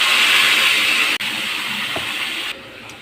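Beans tipped into a sizzling kadai holding mustard seeds, chana dal, urad dal and curry leaves give a steady, loud frying hiss with a brief dip, then a quieter sizzle toward the end.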